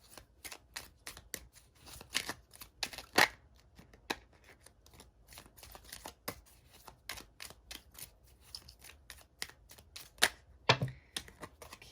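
Tarot cards are shuffled, flicked and drawn by hand in a quiet room, giving a string of close, crisp paper snaps and riffles with irregular pauses between them.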